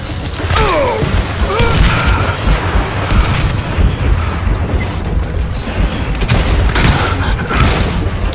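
Gunfire in the Call of Juarez Western video game, loud repeated shots and booms mixed with clanking mechanical action and game noise, continuous across the stretch without speech.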